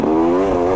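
A KTM 300 XC-W TPI dirt bike with a carburetor conversion revs steadily and close, its engine note holding a strong, even drone for under a second with a slight wavering in pitch.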